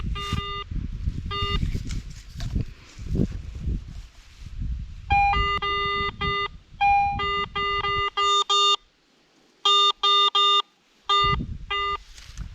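A metal detector beeps in short, repeated bursts of bright tones, some in quick clusters with brief pauses between them, as it sweeps over a buried iron relic outdoors amid rustling handling noise.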